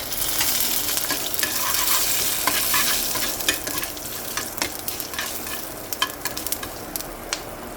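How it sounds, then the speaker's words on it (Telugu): Fenugreek seeds, urad dal and mustard seeds frying in hot oil for a bitter gourd curry tempering, a steady close sizzle broken by sharp crackles and pops, with scraping stirs and no talking. "మెంతులు వేగిపోయి ఇప్పుడు ఇందులో మినపప్పు ఆవాలు వేసుకుందామండి"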